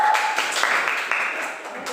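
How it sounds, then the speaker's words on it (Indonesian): A class in a physics lesson on gravitational acceleration applauds a student group with a brief round of clapping that fades gradually, with voices mixed in. "Tepuk tangan untuk kelompok 1."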